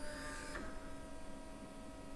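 A LulzBot TAZ6 3D printer moves its nozzle down to gently probe a felt pad, giving a faint mechanical hum with a soft tap early on, close by and without talk.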